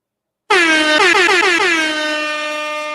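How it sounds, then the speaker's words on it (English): A loud air horn blasts suddenly and holds a long, brassy chord, with a brief stutter in the middle before it sustains to the end. "what you want, which is the air horn. I love the air horn so much."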